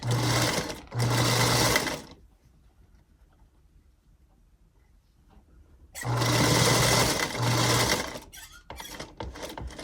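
A sewing machine stitches patchwork seams with a backstitch for a small Scottie dog project. Two loud, close bursts of rapid whirring are separated by a quiet pause.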